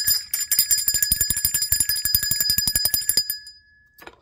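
A small bell rings in a fast, steady flurry of bright metallic strikes, loud and close, for about three seconds. After a short pause, one faint final ding follows.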